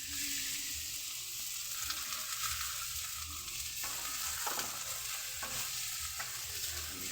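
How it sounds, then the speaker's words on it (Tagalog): Garlic, onion, chicken liver and gizzards sautéing in a pan for chop suey, a steady close sizzle with intermittent scraping stirs throughout. "nagisa na po siya ng bawang at saka sibuyas. Pinapay na rin yung atay at saka balon-balunan."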